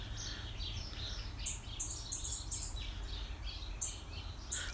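Birds chirp and twitter continuously at a distance at sunrise, over a low, steady rumble of background noise.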